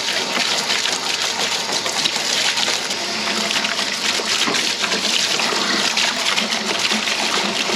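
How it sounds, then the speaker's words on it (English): Steady, unbroken rush of water from a hose spraying out a goat kid's plastic milk feeder, loud and close throughout with no talk. "So we just hose it out."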